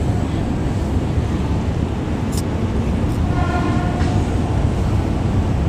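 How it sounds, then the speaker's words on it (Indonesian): A KRL commuter train departs from Gambir station in Jakarta, giving a continuous loud rumble of rolling wheels and passing cars with wind buffeting the microphone, plus brief high squeals and a short horn-like tone. "Sekarang waktunya KRL diberangkatkan lagi menuju stasiun Manggarai."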